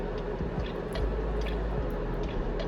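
Water worked into sisterlocked hair strands during removal, giving close, soft wet squishes and drips that repeat in an uneven rhythm over a low background hum.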